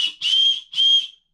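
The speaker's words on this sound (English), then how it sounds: "It's not a great whistle, but it's a whistle." A plastic emergency whistle from a Life Gear 130-piece first aid and survival kit is blown twice, two shrill steady blasts of under half a second each, close and alone.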